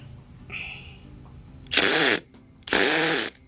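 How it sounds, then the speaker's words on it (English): An impact driver works at a screw: two loud, rattling hammering bursts, each roughly half a second long, with a short pause between them, following brief quieter handling noise. "So I was thinking about just using impact driver to remove the screw."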